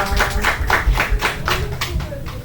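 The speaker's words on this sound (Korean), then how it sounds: "저희 감사의 박수 감사합니다." A youth group congregation at a church worship service claps in thanks, a brisk run of rhythmic claps from a room full of people, with voices mixed in.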